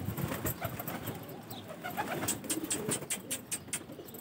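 Soft, low cooing of a pigeon repeats several times at a moderate distance, with faint chirps and light background noise.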